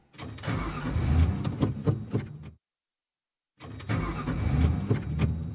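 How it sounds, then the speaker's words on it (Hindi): A car engine cranks repeatedly without catching, a steady grinding churn that runs for about two and a half seconds, falls silent for a second, then resumes with the same labored starter whir, close and fairly loud. "ये गाड़ी क्यों नहीं स्टार्ट हो रही है?"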